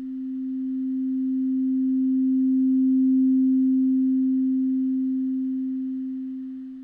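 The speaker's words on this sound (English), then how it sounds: "the note faded in for 4 and then it faded out for 4." A single sustained pure synth tone from Sonic Pi swells slowly in volume, peaks midway and then fades away again over about seven seconds, steady in pitch and heard alone.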